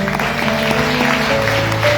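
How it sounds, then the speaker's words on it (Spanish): A church congregation applauds in a dense, continuous wash of clapping at a Sunday offering service, carried over steady sustained music. "Denle un aplauso a Dios"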